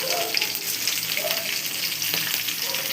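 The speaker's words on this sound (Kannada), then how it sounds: "ಬೆಳ್ಳುಳ್ಳಿ ಹಾಕ್ಕೊಂಡು ಸ್ವಲ್ಪ ತಿರುಗಬೇಕು." Garlic and green chilies fry in hot oil while being stirred, producing a dense, steady close sizzle with light scraping touches, constant in loudness across the short stretch, no one speaking.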